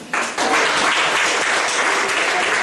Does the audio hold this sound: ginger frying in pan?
no